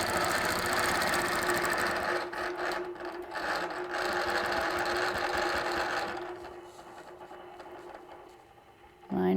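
A sewing machine stitching quilting lines during curved cross-hatching with arc templates, running in a loud, steady whir for about six seconds before slowing and fading, then a brief burst at the end.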